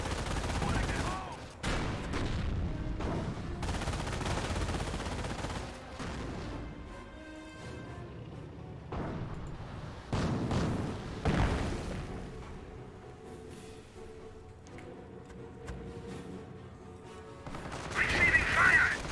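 Gunfire and explosive bursts in a Company of Heroes 1 multiplayer battle between US and Wehrmacht forces, with dense crackling shots and booms stretching across the stretch, fading to scattered reports, while radio-style unit voices call out under the combat.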